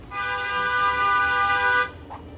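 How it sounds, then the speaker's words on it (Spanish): A single car horn sounding one sustained, loud, nasal honk of nearly two seconds, cutting off abruptly. "el claxon de un coche tiene unos 90 decibelios"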